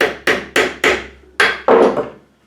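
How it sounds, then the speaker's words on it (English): Six sharp hammer taps ring out as a screw is driven into a padlock, evenly spaced at first, then a short pause and two more strikes, close and loud. "maybe hammer it a little bit inside"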